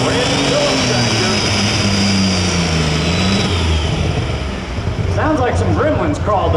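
Light super stock pulling tractor with a custom engine running rough, a loud continuous drone with wavering pitch and uneven roar, holding close and steady throughout while voices come in near the end.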